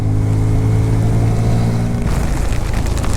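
A Bajaj Pulsar N250 motorcycle under way on a monsoon road trip, its engine droning loud and steady close to the microphone, with a shift in tone about two seconds in and no talking.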